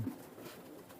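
Baby Oman and KTM pigeons coo once, low and close, in a short quiet moment.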